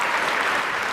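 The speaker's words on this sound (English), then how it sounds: "Another round of applause for our teachers." A crowd at an 8th grade awards banquet claps steadily for teachers, a dense, even wash of applause with no pauses.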